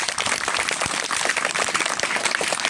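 A crowd at a school celebration applauds warmly, dense and continuous clapping that stays loud and unbroken throughout, with no voices on top.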